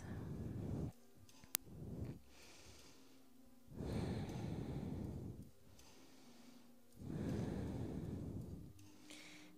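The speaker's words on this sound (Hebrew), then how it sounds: "קחו שלוש נשימות עמוקות." Deep breathing in a power yoga session: three slow, full breaths drawn in and let out through the nose, close and soft, with quiet gaps between each long exhale.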